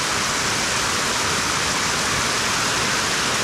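Muddy pond water gushes steadily from a siphon hose draining a pond, a dense, constant rushing splash close by with no voices.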